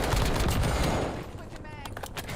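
Video game gunfire in Call of Duty Warzone: rapid loud bursts of automatic shots up close, fading into scattered distant cracks.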